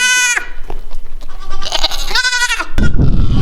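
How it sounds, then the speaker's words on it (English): Goats bleating loudly on a farm, several harmonic cries: one short call at the start, then two long wavering bleats in the middle, followed by a burst of broadband rustling noise, all close and without speech. "The goats are loud."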